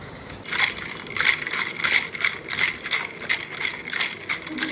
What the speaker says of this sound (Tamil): ice cubes